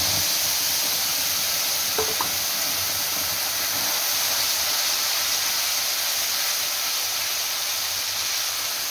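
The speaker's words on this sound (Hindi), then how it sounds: "तो इसे हम अच्छे से फ्राई होने देते हैं।" A paste of ground tomato, onion and garlic sizzles and hisses steadily in a pan with cumin seeds, a continuous close frying sound with a brief stir in the middle and no voices.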